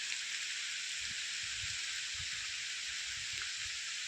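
Heavy rain falls steadily outdoors near a tree, producing a dense, even hiss with faint low patters of drops, continuous and unbroken throughout.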